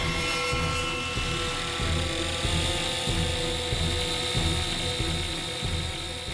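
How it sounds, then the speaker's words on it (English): A small remote-controlled camera helicopter whines and buzzes steadily with a rapid mechanical chatter, close and loud, holding an even pitch throughout. "camera right into the heart of a tornado using a remote-controlled helicopter"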